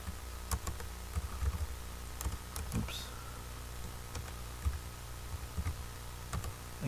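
Scattered light taps of a computer keyboard as a search term is typed into a web browser, sparse close clicks over a steady low hum.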